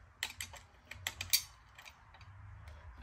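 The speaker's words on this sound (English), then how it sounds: "And we'll tighten it back down." A nut on the bar of a Homelite chainsaw is tightened, giving a few quick ratcheting clicks and small metallic taps close up, then quieter faint handling noise.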